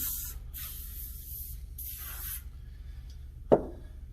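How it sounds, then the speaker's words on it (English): Cooking spray release hisses onto a disposable aluminum pan in two close bursts, each about a second long, followed by a quiet pause and a single sharp knock. "a little bit of spray release on the pan"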